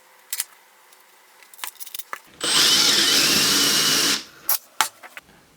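A power drill runs steadily for about two seconds as a drill bit marked for a 3 centimeter depth bores into wood, framed by short clicks and handling knocks before and after.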